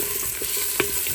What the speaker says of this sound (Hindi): अब गार्लिक को मैं इसमें थोड़ा सा फ्राई करूँगी